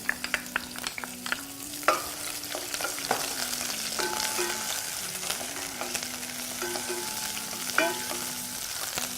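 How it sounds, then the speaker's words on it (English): Onions sizzling in heated oil in a pan, a steady frying hiss with stirring clatter and occasional utensil knocks, close and moderately loud, with a brief spoken word near the start. "Once this is heated through, I'll add my onions."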